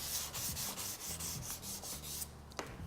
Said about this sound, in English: So while you're sanding, make sure you get the top, you get the bottoms